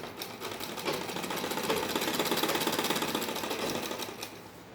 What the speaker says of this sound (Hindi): हल्के हाथ से दबाते हुए सीधी सिलाई लगाएंगे